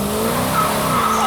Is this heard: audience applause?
no